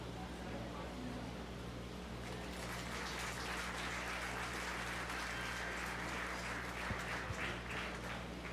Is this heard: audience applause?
yes